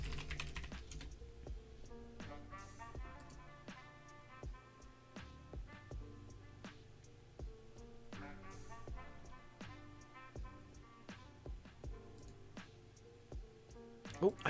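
Typing on a computer keyboard at a trading-chart desk, soft irregular key clicks running under steady background music with occasional louder taps.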